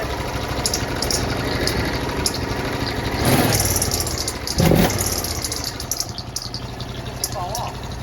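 A lawn tractor engine runs with a newly fitted copper exhaust pipe held by a hose clamp. It idles with a rough, close rumble, then revs up twice in short swells before dropping back to idle.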